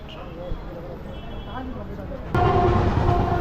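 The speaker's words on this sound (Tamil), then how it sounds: "ட்ரெயின் இப்போ நிற்கிறது பெருங்கலத்தூர்" A suburban local train on the Arakkonam to Tambaram line stops at Perungalathur station: a steady carriage rumble with faint tonal whines, then an abrupt louder surge of broadband noise about two-thirds of the way through.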